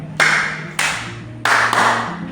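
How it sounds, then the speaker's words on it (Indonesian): Four sharp, loud hand claps in an uneven rhythm during an ice-breaking counting game at a teachers' training session, each clap ringing briefly in the room. "Berapa banyak tepuk tangan yang dilakukan?"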